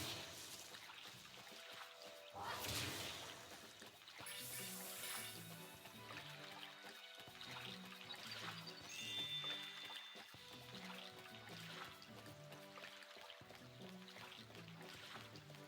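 Soft flowing and trickling water from the video game Lost Kingdoms 2, faint and continuous under quiet level music with repeating notes.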